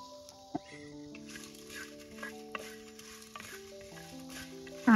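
Guntur chicken masala fries and sizzles in a pan in an outdoor coffee-estate kitchen while it is stirred, a steady close crackle broken by a few sharp scrapes and clinks of the spoon, with no talking.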